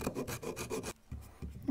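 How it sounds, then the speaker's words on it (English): A flat saw cuts through wooden dowel skewers in quick rhythmic rasping back-and-forth strokes, close and clear, followed by a quieter pause and a few softer scrapes. "I'll just cut these with the flat saw."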